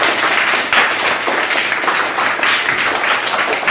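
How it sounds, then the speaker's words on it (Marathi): A group of children claps for a Scratch coding project in an Hour of Code class, giving dense, fairly close rhythmic applause that lasts the whole stretch with no talk over it. "चला या सर्वांसाठी टाळ्या वाजवा मस्त."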